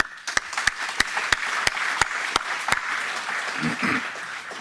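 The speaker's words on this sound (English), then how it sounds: "I think they thoroughly deserve a round of applause." Applause from guests at a Pakistan–Catalonia twinning ceremony, starting with a few sharp individual claps that swell into a steady round of clapping, then thinning toward the end with faint murmuring.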